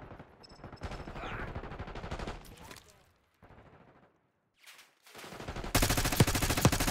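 Gunfire in the video game Call of Duty Black Ops 6 comes in rapid automatic bursts, broken by short pauses and then a loud sustained volley at the end, with faint voices mixed in.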